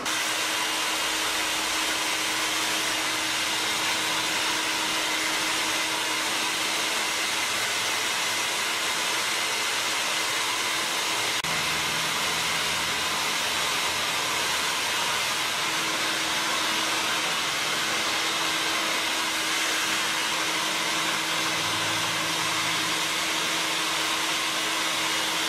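A hair dryer blowing steadily while drying hair, a continuous loud airy whoosh with a constant motor whine that shifts slightly in pitch partway through, alone with no voices.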